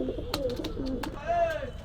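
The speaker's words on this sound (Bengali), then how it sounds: "খুব সুন্দর এক পেয়ার কবুতর, অরিজিনাল লাল বেনারস কবুতর।" A pair of red Benaras pigeons coo at a pigeon market in Gollamari, Khulna: soft, close, rolling coos and a few wing flutters, with a faint murmur of voices behind.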